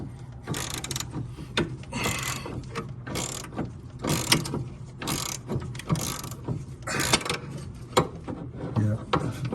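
An 11/16 wrench working a brake booster nut on a 1974 Dodge Ramcharger, with repeated scraping, ratcheting metal grinds in short bursts, close and fairly loud, over a low background hum.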